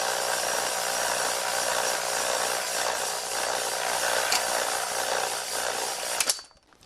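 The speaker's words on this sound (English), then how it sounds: "we're going to use a stone hone just because that's what was available at Harbor Freight" A stone hone scours the inside of an engine cylinder on a free sports car, giving a steady, loud abrasive grinding rasp that runs unbroken for several seconds and then cuts off abruptly near the end.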